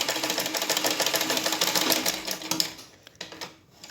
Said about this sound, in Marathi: आता मी हे शिवून घेत आहे हे असं शिवून घ्यायचं आहे